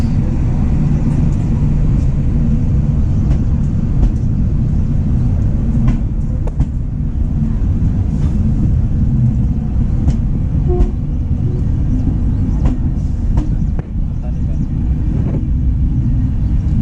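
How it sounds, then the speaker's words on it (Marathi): A Diva passenger train pulls into a station on the Konkan Railway during monsoon season, with a loud, steady low rumble of heavy wheels and carriages, sharpened by faint metallic clicks, running throughout. "आता फायनली आपली ट्रेन आलेली आहे"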